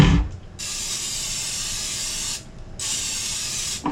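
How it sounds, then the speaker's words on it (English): Cooking spray hisses from an aerosol can onto a pan in two bursts, a long spray followed by a shorter one after a brief pause, close and clear. "I'm going to give it a spray of cooking spray."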